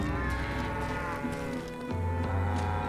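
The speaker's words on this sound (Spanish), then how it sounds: "Uy, vacas." Cows in the Western video game Call of Juarez Gunslinger give loud, drawn-out moos, with a deeper bovine low close by near the end.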